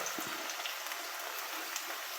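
Onions, garlic and curry leaves sauté in a pan for a Tamil-style fish curry, giving a steady, even sizzle with a few faint crackles.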